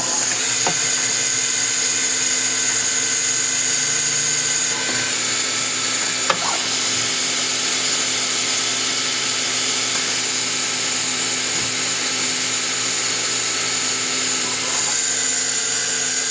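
A Citizen R07VI CNC Swiss lathe runs a program with its spindle at about 3,000 RPM, heard from close by as a loud, steady mechanical whine and hum with a few sharp clicks of tooling.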